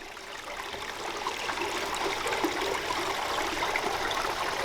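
A stream pours into a small basin beside a sandbar, a steady broadband rush of flowing water that swells slightly at the start and then holds constant, with no talking.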